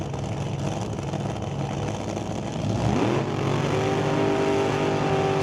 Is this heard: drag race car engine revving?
yes